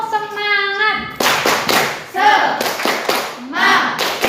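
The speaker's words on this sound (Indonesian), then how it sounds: "kita lakukan tepuk semangat lagi, ya. Tepuk semangat." A classroom of children performs a rhythmic tepuk semangat clapping routine, sharp group claps landing in a steady pattern between chanted voices, close and loud, following a sung intro.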